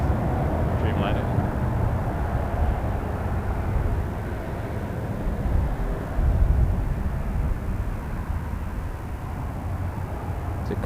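An Egypt Air Boeing 787 Dreamliner comes in to land at Toronto Pearson Airport, a broad, steady jet rumble heard from a distance, swelling slightly midway and holding constant throughout.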